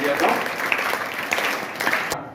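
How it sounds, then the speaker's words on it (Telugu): An audience at a school event in G. Konduru claps together, a dense patter of hand claps that runs steadily before tapering off at the end. "ఒక్కసారి క్లాప్స్ ద్వారా వాళ్ళకి ఆహ్వానం తెలియజేద్దాం"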